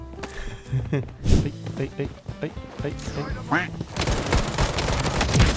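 Rapid, loud bursts of gunfire ring out in the Blood Strike shooter game, with clusters of shots overlapping under someone talking throughout.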